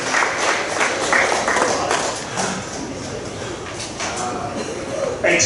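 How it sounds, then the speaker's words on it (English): Warm audience applause at a community meeting on a school levy, steady clapping throughout with some talk mixed in. "And I just give him a warm round of applause there."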